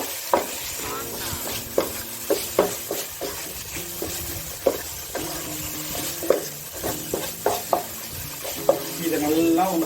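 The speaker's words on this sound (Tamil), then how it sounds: "இப்போ இதை நல்லா வதக்கிக்கலாம். அது கூட கருவேப்பிலை," Salted chicken and curry leaves sizzle steadily in a hot pan while a spoon stirs, scraping and clinking against the metal at irregular intervals close by.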